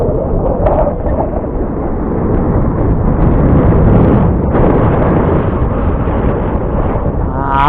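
Strong outdoor wind buffets steadily and loudly throughout while a Skyhunter Mini model plane flies on a windy day, the roar continuous and close with no voices.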